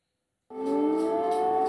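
Air raid sirens wail over Kyiv during a Russian drone attack, starting abruptly after a short silence and holding a loud, sustained civil defense tone that rises slightly and carries with a distant, echoing quality.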